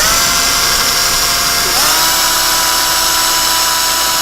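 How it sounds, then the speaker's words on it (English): Small cordless drill spinning the encoder of an Omniturn CNC lathe, a loud continuous high-pitched whine close by with a brief dip in pitch midway, and no talking. "So I'm just going to use this little cordless drill here to rotate the encoder."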